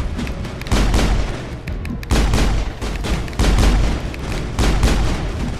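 Turret fire in the Mass Effect video game, heavy booming bursts that repeat roughly every second or so over a continuous rumble of combat noise.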